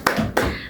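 A school class does a spirit clap: two sharp, close hand claps in quick succession.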